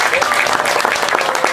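A crowd claps loudly and continuously at a religious dhikr gathering, a dense close burst of applause.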